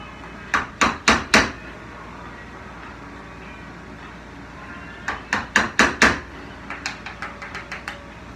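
A chisel chops waste wood out of a drawer dovetail, sharp close taps in quick clusters, four early strikes, then a longer run of blows that grow lighter, with quiet pauses between.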